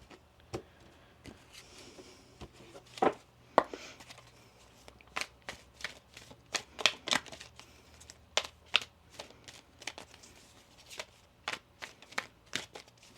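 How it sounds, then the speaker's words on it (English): Tarot cards being shuffled in a crisp, irregular run of light riffling snaps and flicks, quiet and close, with short pauses between bursts and no talking. "let's get one more shuffle."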